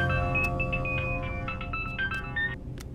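A mobile phone ringtone plays a bright, repeating electronic melody of short tones, fairly loud and close, with no talk over it.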